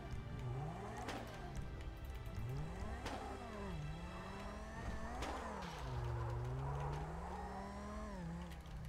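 An Audi car engine revs repeatedly in rising and falling sweeps, several throttle blips with engine drone between, close and fairly loud.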